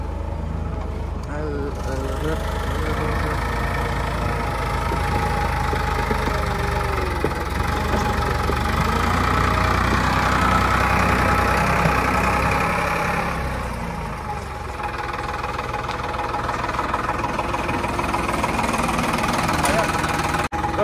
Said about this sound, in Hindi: ट्रैक्टर चल पड़ा है